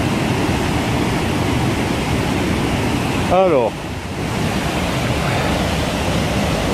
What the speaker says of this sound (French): on voit la cascade qui sort de la roche